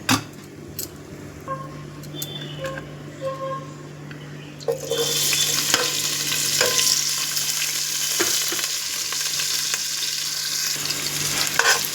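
Onions fry in hot oil for Andhra-style mutton dum biryani, starting as a few clinks and scrapes over a low hum, then swelling into a loud, continuous close sizzle with occasional stirring knocks.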